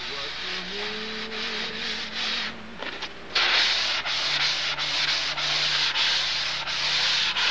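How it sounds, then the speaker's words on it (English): Steady, close, loud rasping strokes of sandpaper rubbed by hand over a shaped workpiece without a sanding block, a continuous gritty hiss with rhythmic pulses and a brief pause partway through. "I notice I'm not using a sanding block at this point"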